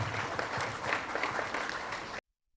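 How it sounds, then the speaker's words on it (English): A crowd claps in a steady round of applause, fairly quiet and somewhat distant, which cuts off abruptly into silence. "A resounding round of applause."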